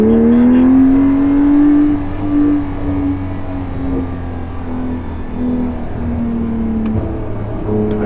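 A Porsche on the Hockenheimring track accelerates out of a turn, its engine note rising steadily in a loud, close, continuous roar that eases slightly as throttle is held, with no speech.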